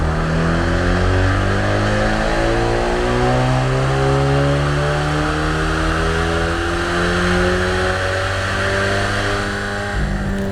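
A tuned Kia Stinger 2.5T on a JB4 Map 6 tune with E50 fuel and charge pipe injection revs hard and climbs steadily through the gears, a loud, close engine drone with rising harmonics throughout and no talking.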